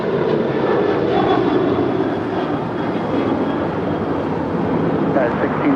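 A United airliner rolls for takeoff on runway 25 left at LAX, its jet engines making a loud, steady, broadband roar that fills the whole stretch, with some voice sound underneath.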